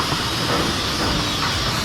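Loud continuous mechanical hiss and rumble of a rice packaging machine running, with rattling texture throughout and a brief louder burst at the end.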